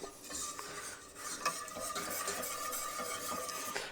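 Milk being stirred into a white sauce in a pan, soft, quiet scraping and swirling of a utensil against the pan bottom, steady throughout with no talking.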